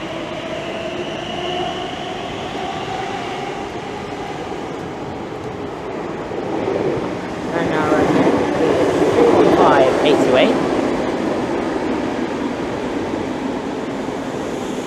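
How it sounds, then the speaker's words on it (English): A TfL Rail service pulling out of Romford station on the Great Eastern Main Line, its rumble building midway and swelling with clattering wheel noise before holding steady, close by, with someone talking over it. "the 1804 TfL rail service from Gidea Park to London Liverpool Street. We get that as it departs"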